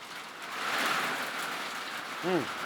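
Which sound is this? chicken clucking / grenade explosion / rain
rain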